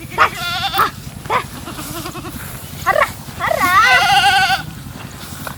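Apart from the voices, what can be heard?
goats bleating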